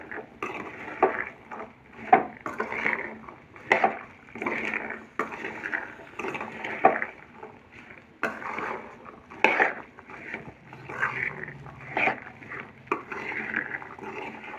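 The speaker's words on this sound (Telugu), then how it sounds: "అలా శనగలను వేసుకున్న తర్వాత మొత్తం కలిపేసుకోవాలండి ఒకసారి, ఈ మసాలా మొత్తం పట్టే విధంగా." Boiled black chickpeas stirred with masala in a pan, a soft rhythmic series of scraping and clinking spoon strokes against the pan that keeps going steadily, close and fairly quiet, with no talking.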